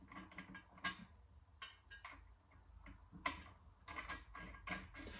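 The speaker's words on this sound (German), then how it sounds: "schrauben wir das Ganze zusammen." Screws and slot nuts fastening a Fanatec DD Pro wheel base onto a Playseat Evolution, heard as close, irregular metallic ticks and ratcheting clicks in short bursts with pauses between.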